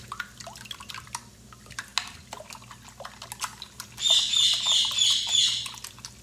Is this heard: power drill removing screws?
no